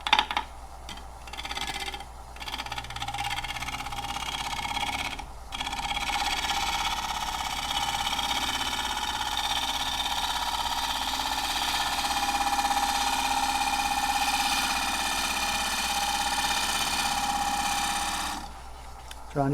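A wood lathe spinning a gifted pecan wood piece as a gouge works it, a steady whirring hum with scraping tool contact, brief knocks at the start and end, and a few faint words.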